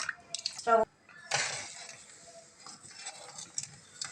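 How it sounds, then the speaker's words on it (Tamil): Water is poured over two cups of sugar in a pan while making Mysore Pak, a brief splashy pour with scattered drips and clinks as someone speaks. "அது கொஞ்சம் முழுகிற அளவுக்கு தண்ணியை கொஞ்சம் ஊற்றிக்கலாம்."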